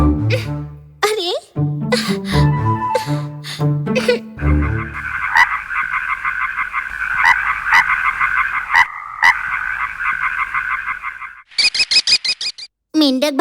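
Cartoon frog croaks in a children's animated show, repeated rhythmic ribbits that follow a child-like voice talking at the start, then run steadily and loudly, ending in a quick burst of higher chirps.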